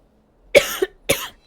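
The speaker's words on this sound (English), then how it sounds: "I'm really trying not to cough so much." A person with a cold gives two harsh, close coughs, the first with a short follow-up rasp, separated by a brief silence.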